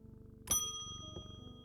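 A single bright bell ding calls the next customer in the shop game Strange Antiquities, striking clearly over a low musical hum and ringing out with a long metallic decay.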